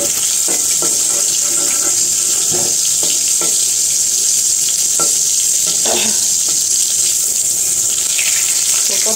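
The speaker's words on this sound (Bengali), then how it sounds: "পটলগুলো আরেকটু ভাজতে হবে।" Pieces of pointed gourd (potol) fry in a pan with a constant loud sizzle, while irregular clinks and scrapes of a utensil sound close by.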